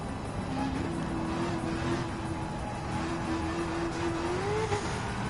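A hypercar engine roars through a lap of a Gran Turismo 7 race, a steady, loud drone that holds its pitch and then climbs briefly near the end, with no talking.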